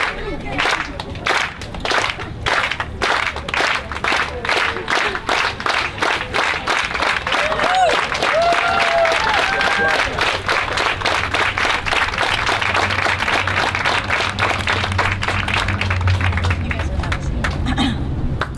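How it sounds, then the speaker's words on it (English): A crowd at a white coat ceremony for a physician assistant class claps in unison, a long run of sharp, evenly spaced beats with a murmur of voices underneath. "So huge round of applause."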